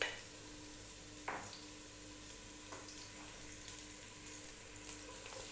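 Celery hissing in hot cooking oil in a pot, a steady soft sizzle with a few brief scraping stirs, fairly quiet and with no talking.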